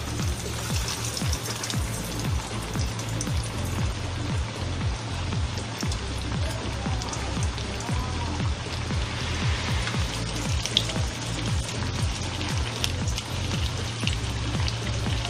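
Kachori frying two or three at a time in hot white oil in a small wok, giving a dense, even crackling sizzle that carries on steadily throughout with no talking.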